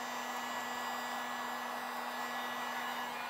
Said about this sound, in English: this would be a great spot to just, you could pull shrink it, you could blow some heat underneath it